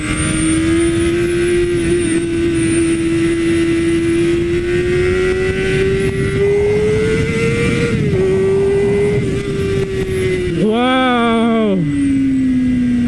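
BMW S1000RR superbike running in slick mode with traction control off, engine screaming at sustained high revs, loud and close, then a sharp drop and quick re-rev near the end.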